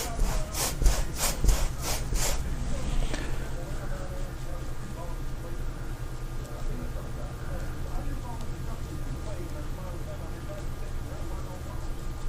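Paint rubbed into canvas with a brush while working on a grayscale fish painting: a handful of quick scrubbing strokes at the start, then a quieter, steady background.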